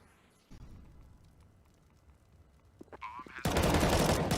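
Rapid automatic rifle fire bursts out in a Counter-Strike match on the Train map, starting faint with scattered shots and swelling into a loud, dense spray toward the end.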